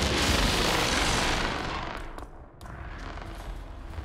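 A breaching charge detonates in a tactical stealth video game, a loud, broad explosive roar that decays over a few seconds with a brief dip and lingering rumble afterward.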